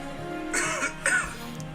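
Two rough, close coughs or throat-clears from a man gaming on Pokémon Legends Z-A, the first a short bark and the second a harsher burst, over a low steady background hum.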